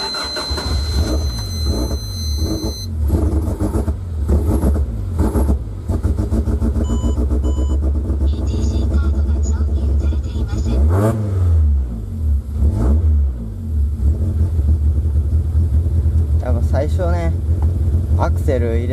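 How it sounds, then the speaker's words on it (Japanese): A Toyota AE86 engine with quad throttle bodies cranks and catches, then revs repeatedly, rising and falling in pitch, loud and close throughout, running rich. "じゃあとりあえずエンジン始動してみて"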